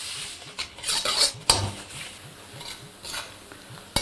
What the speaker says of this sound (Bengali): তারপর ফ্লেমটাকে মিডিয়াম রেখে এটাকে ভালো করে একবার ভেজে নিন।